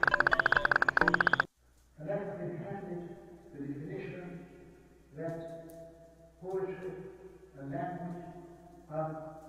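Video-game frogs croak in Bubsy 3D, a repeating series of throaty calls at a steady rhythm after a short burst of game noise. Someone talks over the croaking.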